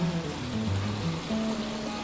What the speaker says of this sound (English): the water that's coming down